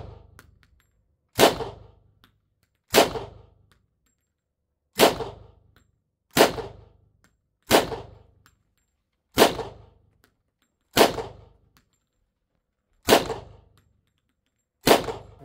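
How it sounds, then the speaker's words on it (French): A Thompson M1 submachine gun in .45 ACP from the Second World War fires single shots outdoors, about ten sharp cracks spaced one to two seconds apart, each with a short ringing decay. "Thompson M1 en 45 ACP, Seconde Guerre mondiale"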